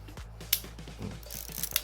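A Rollei 35 film camera shutter fires with a couple of sharp, small mechanical clicks, along with light handling and winding noises up close, and no voices.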